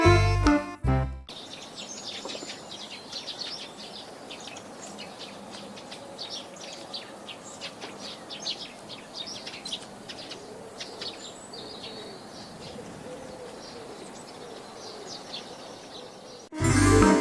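Birds chirp and twitter across a long outdoor stretch, with scattered short tweets and calls over a steady bed of insect-like buzzing, moderately near and alone, framed by brief bursts of other sound at the start and end.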